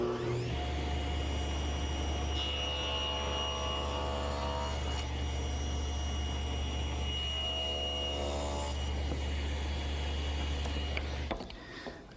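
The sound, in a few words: table saw cutting wood at 45 degrees with miter gauge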